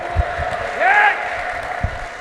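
Clapping and a rising, warbling ululation from a Protestant church congregation, with a few sharp claps around a high trilling cry that swells then fades, over a steady room murmur.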